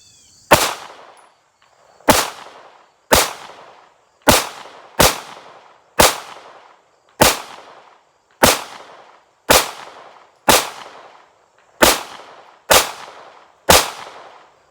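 A SARUSA B6C subcompact pistol fires about thirteen sharp, loud shots in closely spaced pairs, each crack followed by a brief ringing decay, with no talking.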